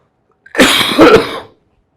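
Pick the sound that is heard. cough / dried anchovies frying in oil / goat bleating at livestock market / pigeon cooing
cough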